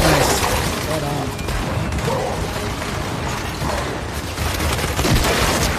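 Dense video-game gunfire with popping headshot impacts and mechanical clatter, loud and continuous throughout, with a voice faintly under the shooting.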